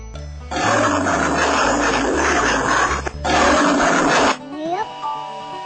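Tiger roaring in a children's Lao and Thai alphabet song: two long, rough, growling roars fill most of the moment over a light musical backing, ending with a short rising tone.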